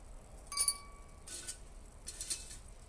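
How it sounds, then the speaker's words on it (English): A few ice cubes clink into a glass at home, two or three separate bright chinks spaced about a second apart, close and fairly quiet in an otherwise still room. "I'm just gonna add a little ice to a glass."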